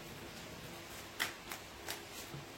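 Oracle cards shuffled for a general reading, giving a few faint, quick riffling flicks spaced apart against a quiet room background.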